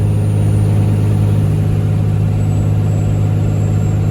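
A Cummins diesel in a Ford F350 drones steadily at highway speed, about 53 mph in fourth gear while towing a trailer of cattle and hay, a loud constant low engine hum with road noise.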